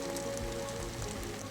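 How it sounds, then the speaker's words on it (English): Steady rain falls in a continuous wash with no distinct drops standing out, with a constant tone running underneath throughout. "Can you hear the rain? It's so loud."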